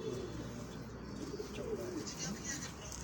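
Pigeons coo softly in a few low, rolling calls under a voice speaking nearby, with faint chirps in the background.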